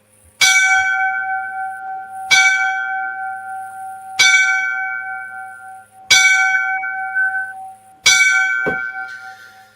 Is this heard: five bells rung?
yes